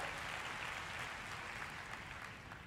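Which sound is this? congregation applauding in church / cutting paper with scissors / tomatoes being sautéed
congregation applauding in church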